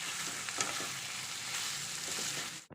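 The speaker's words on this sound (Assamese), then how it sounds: "ইয়াৰ পিছতে মই যিখিনি লং, ইলাচি, ডালচেনি পিহি ৰাখিছিলোঁ সেইখিনি মই মাংসখিনিত দি দিম আৰু ভাজি থাকিম।" Duck meat sizzles and fries in hot oil with ground cloves, cardamom and cinnamon for an Assamese duck curry, a steady close crackle with a few stirring scrapes, cutting off abruptly at the end.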